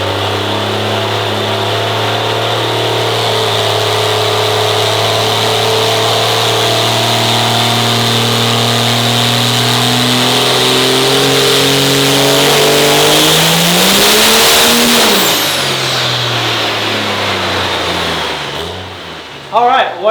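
A nitrous-sprayed race car engine, tuned toward 1,700 horsepower, revs hard on a dyno. It gives a loud sustained roar that climbs steadily in pitch for about fifteen seconds, then drops off sharply as the throttle closes.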